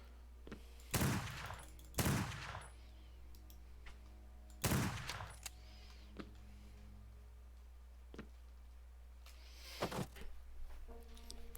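Gunfire in Lovecraft's Untold Stories 2: four sharp, loud shots spaced a second or two apart, then softer clicks and ticks, and another shot near the end, all over a steady low hum.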